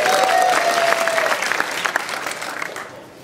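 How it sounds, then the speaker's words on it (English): An audience at a developer conference session applauds loudly, the dense clapping beginning strong with a brief voice over it, then thinning into scattered claps that fade out within a few seconds. "Listen to that applause."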